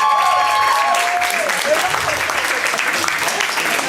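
Members of the hummingbirds team at the CEI 2025 opening ceremony cheer loudly, with a few shouted voices at the start merging into a continuous roar of crowd noise and applause.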